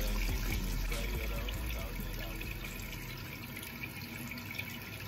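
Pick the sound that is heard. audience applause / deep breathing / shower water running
shower water running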